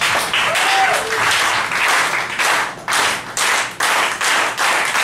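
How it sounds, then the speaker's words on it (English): An audience at a comedy night in Richmond claps loudly and continuously in surging waves for a comedian, the applause swelling and dipping several times, with a few voices calling out. "We're gonna give this guy a fucking sweet intro clap."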